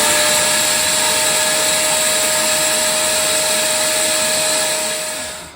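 Vacuum cleaner sucking on a blocked boiler condensate pipe on a Vaillant boiler, a loud, steady whine with a high tonal note held for several seconds before the motor winds down.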